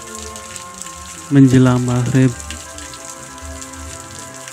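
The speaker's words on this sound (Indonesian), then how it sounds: "air hujan" Steady rain falls at dusk, a constant hiss of drops on surfaces, while a voice speaks briefly over it in the middle.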